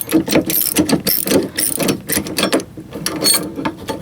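Wrenches ratcheting on the mounting bolts of an iBoard running board, a dense run of quick metallic clicks in close, loud bursts throughout.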